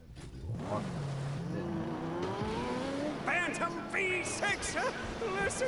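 A V6 car engine in Mad Max gameplay revs and rises in pitch, with shifting tones and a brief squeal, under a talking voice throughout.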